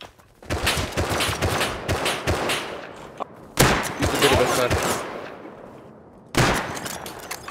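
Gunfire in the video game Rust, with loud bursts of rapid shots in three separate volleys separated by brief pauses, close and dense.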